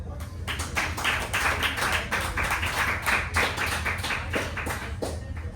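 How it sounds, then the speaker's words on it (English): An audience at a live poetry reading claps steadily, a close, dense patter of many hands sustained throughout with no talk. "Thanks for clapping."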